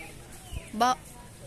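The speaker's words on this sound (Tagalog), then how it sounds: "Daming ibon." A bird outside a church in Ilocos gives a short, sharp clucking call, one brief harmonic burst near the middle, close and clear over quiet background.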